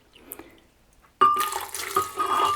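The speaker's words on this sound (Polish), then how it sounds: "No i cztery szklanki wody. To ja już tutaj naleję." Four glasses of water pour into a container for homemade oat milk: a faint trickle and small sounds first, then a sudden loud, steady gush of pouring water that continues to the end.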